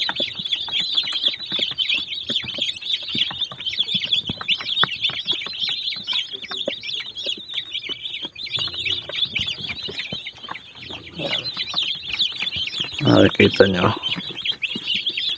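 Forty-five-day-old chickens cluck and chirp continuously nearby, a busy flock with someone speaking briefly over them.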